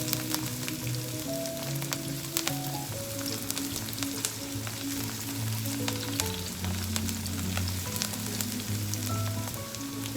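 Vegetables for chicken fried rice sauté in a hot pan, producing a continuous close sizzle and crackle with scattered sharp pops and a faint background hum, no voices.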